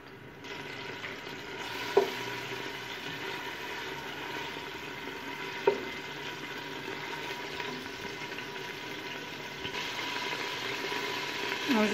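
Meat frying in oil in a pot for a vermicelli soup gives a low, steady sizzle that runs on unbroken, with a few faint clinks from utensils.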